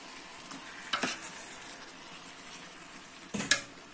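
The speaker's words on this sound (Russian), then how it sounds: "Итак, вот уже у меня морковь спассеровалась." Carrots and chopped tomatoes sauté in oil for a mushroom solyanka, giving a steady low sizzle with a couple of louder stirring scrapes near the start and end; no one speaks.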